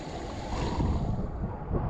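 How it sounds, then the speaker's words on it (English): Ocean waves wash and churn below a cruise ship docked at Curacao, a broad low rushing surge with wind noise on the microphone, steady and fairly loud throughout. "The waves coming out."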